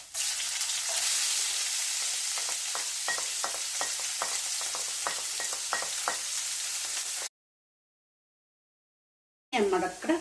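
Chopped ginger fries in hot oil in a pan for a cutlet, giving a steady, bright sizzle with repeated scraping stirs, followed by a silent gap and a brief sputter of frying.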